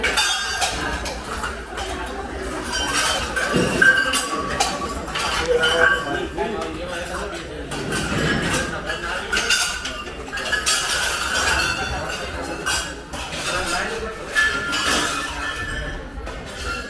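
Wet metal cooking vessels clink and clatter as they are cleaned in a kitchen area, with scattered knocks and rattles over a steady background and voices talking nearby.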